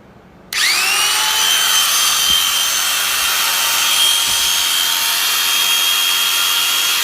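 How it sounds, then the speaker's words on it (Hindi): A 750-watt electric animal hair clipper switches on abruptly and runs with a loud, steady high-pitched motor whine that holds evenly to the end, with no talking. "ये मैंने मशीन ऑन की।"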